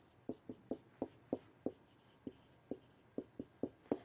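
Pen or marker strokes of someone writing out a binomial by hand during an algebra lesson on multiplying polynomials, a dozen short scratchy taps in an uneven rhythm, close and clear with no talking.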